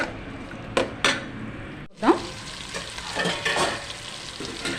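Spices and turmeric being stirred into food in a frying pan while cooking biryani-style masala, with steady sizzling and scraping of a spoon against the pan, a couple of sharp knocks near the start.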